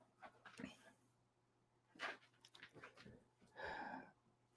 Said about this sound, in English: Dog's breaking my concentration.